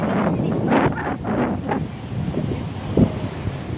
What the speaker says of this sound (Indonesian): Sayang anginnya kencang sekali di sini.